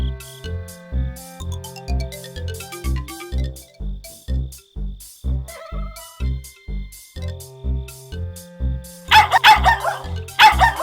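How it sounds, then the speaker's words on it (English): A hound in an adventure video game barks repeatedly in an even rhythm over tinkling game music, with a brighter burst of noise near the end. "Oh no, that infernal hound is back on the drawbridge."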